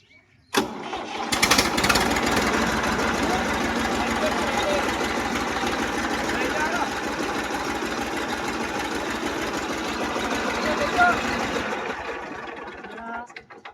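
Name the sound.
tractor engine running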